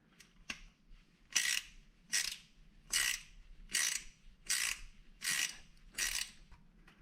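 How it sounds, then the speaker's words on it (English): Seven crisp bursts of close ratchet clicking, evenly spaced and loud against near silence, come from a 6mm socket on a ratchet backing a stud out of a rusty Toyota Supra exhaust header. "I just used a 6mm socket, came right out."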